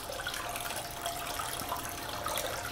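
Water flows in a steady, even rush across a gold dust concentrating table, a continuous close hiss without pauses or voices.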